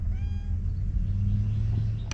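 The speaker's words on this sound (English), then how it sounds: "Cat's trying to get in." A cat meows faintly a few times while trying to get in, over a steady low rumble of background noise, with a brief sharp sound near the end and no talking.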